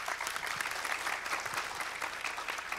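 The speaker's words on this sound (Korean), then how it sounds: "박수로 좀 환영해 주시면 고맙겠습니다" A crowd at a Korean scientists' leaders forum applauds to welcome a speaker, with a continuous, moderately distant wash of clapping that holds steady the whole time.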